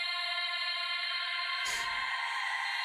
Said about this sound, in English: it looks like I used it on this vocal loop